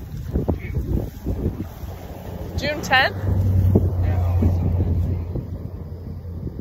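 Wind gusts across a wheat field during custom harvest, rushing and buffeting the microphone at a fairly loud steady level while people talk nearby, with a brief birdlike chirp partway through.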